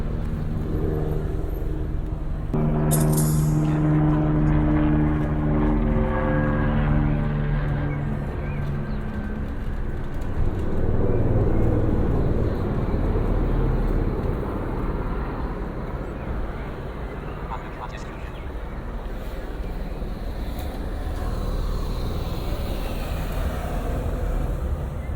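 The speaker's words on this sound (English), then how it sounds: "you can observe that there is a plane flying." A plane passes over a city center as a broad, rising and fading rumble of aircraft noise, with pigeons cooing and road traffic in the background.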